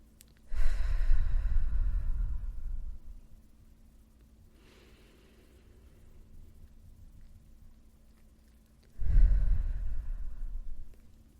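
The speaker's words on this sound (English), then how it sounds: "we're going to breathe in, pause, and we're going to blow it out" A person takes a deep, audible breath in, holds it through a quiet pause, then blows it out in a long exhale, followed by a second inhale; close, breathy and alone.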